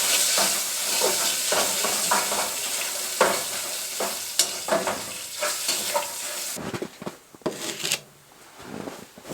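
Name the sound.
bacon frying in a pan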